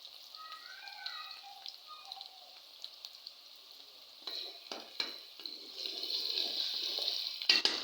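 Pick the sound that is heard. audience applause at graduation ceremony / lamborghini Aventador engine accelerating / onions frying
onions frying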